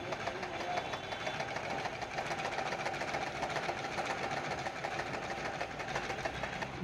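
Treadle sewing machine worked by foot pedal, stitching cloth in a steady, continuous mechanical clatter with a fast even rhythm, moderately quiet and close, without speech.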